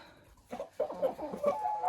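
A hen clucks in short, close bursts, a few quick clucks and murmurs strung together over under two seconds, amid quiet farmyard background; no voices.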